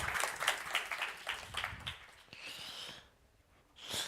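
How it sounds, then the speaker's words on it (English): Audience applause greets a presenter taking the stage at an online accelerator demo day, a dense burst of clapping for about two seconds that thins out into scattered claps and breathy noise. "Big applause for Sammy."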